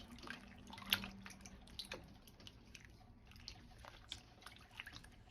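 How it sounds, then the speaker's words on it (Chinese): Chili peppers, garlic sprouts and celery are washed by hand in a basin of water, giving faint, close splashes, drips and soft sloshing in irregular bursts, with no talking. "接着把辣椒、蒜苗和芹菜先放入水中清洗干净"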